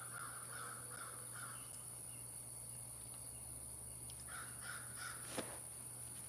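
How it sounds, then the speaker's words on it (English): Crows caw in short repeated bursts at a distance, two volleys a few seconds apart, over a steady insect drone. "Y'all hear my birds?"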